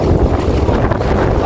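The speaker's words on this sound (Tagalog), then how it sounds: "Mahangin na at mahalon na." Strong gusty wind buffets the microphone with a low rumble by the sea in Chania, Crete, a brief blustery burst with a hint of rough water beneath.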